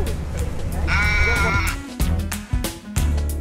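Sheep bleat at a wool shed on a New Zealand farm, one loud close bleat over a busy background of shuffling and other flock noise.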